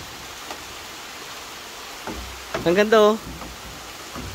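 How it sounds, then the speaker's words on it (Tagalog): Steady rain falls outdoors as an even, soft hiss that continues unbroken, while someone speaks briefly over it partway through. "itong ulan na ganito"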